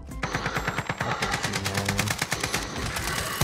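Rapid automatic gunfire from Modern Warfare's Warzone battle royale, a steady stream of loud, close bursts rattling through the whole stretch with no pauses.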